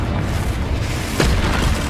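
A loud, low boom from the Confringo fire spell in the video game Hogwarts Legacy bursts over a dense, rumbling background, with one sharper impact near the middle.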